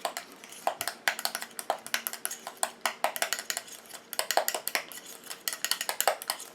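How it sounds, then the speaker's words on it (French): A homemade hand cream mixture is stirred briskly in a container, making a fast run of close, sharp clinks and taps from the utensil against the sides, rhythmic and continuous without speech. "Et je mélange."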